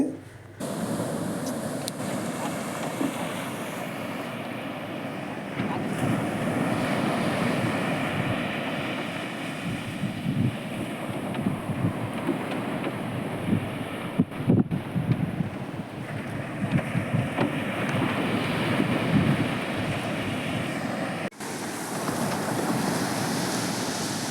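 Strong sea wind buffets the microphone on a fishing shore while waves roll in, a loud continuous roar and rumble with gusty swells and a few sharp knocks, no talking.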